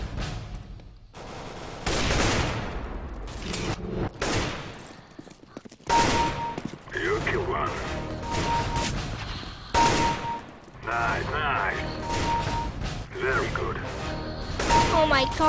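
AWP sniper rifle shots in Counter-Strike: Global Offensive ring out as loud, repeated gunfire bursts over continuous game noise, with voices mixed in.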